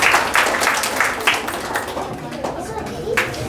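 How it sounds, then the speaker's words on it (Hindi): Scattered audience clapping at a school Republic Day celebration, uneven bursts of hands under a busy, noisy hall with voices talking over it. "अब तालियां बजा देना"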